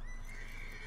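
A horse in Red Dead Redemption 2 gives a brief, clear whinny, close and alone, lasting under a second.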